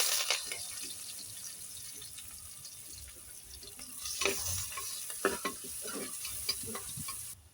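Chopped onions fry in hot oil in a pot, giving a continuous soft sizzle. Scattered clinks and scraping stirs grow busier and louder toward the end.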